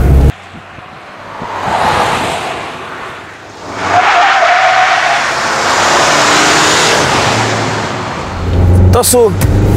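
An off-road SUV coasts down a slope without braking as the driver eases off the throttle. Engine roar and rumbling tire noise swell and fade over rough terrain, with a person talking throughout.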